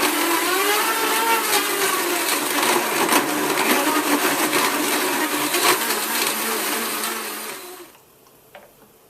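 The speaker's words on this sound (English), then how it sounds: "Blend this on high for 60 seconds" A blender whirs loudly at high speed for several seconds, churning a smoothie with a steady roar, then abruptly stops, leaving near silence.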